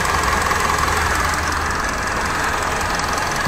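An idling engine with a suspected blown head gasket, a dense continuous rumble with a fast, steady knocking texture underneath, loud and close with no voices over it.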